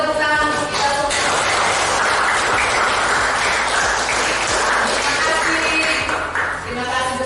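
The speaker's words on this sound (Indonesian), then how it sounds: "supaya lebih senang kita tepuk tangan untuk kita semua" A classroom group claps together, a dense burst of hand clapping that holds steady for several seconds, with a voice speaking over it near the start and end.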